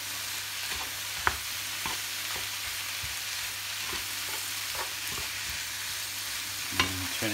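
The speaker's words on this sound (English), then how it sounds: "keep stirring this to fry it down" Food caramelizing in a pan crackles with a constant close sizzle while a spoon scrapes and taps through it at an irregular rhythm, with a couple of sharper knocks.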